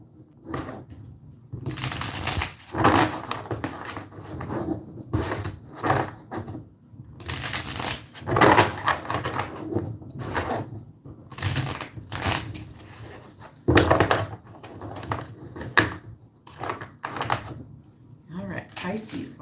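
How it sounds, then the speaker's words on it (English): A deck of tarot cards shuffled by hand in repeated bursts of riffling and sliding, loud and close, with a voice talking in between. "a couple of good shuffles"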